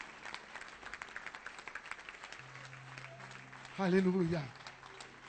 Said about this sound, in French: On peut donner une acclamation au Seigneur.